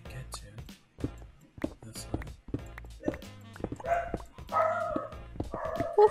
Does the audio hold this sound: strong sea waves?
no